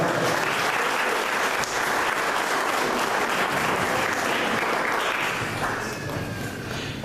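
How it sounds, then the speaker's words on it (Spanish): A church congregation applauds after a sermon, a dense, steady burst of clapping from the crowd that holds for several seconds before easing slightly at the end. "Démosle un aplauso a Dios por la palabra."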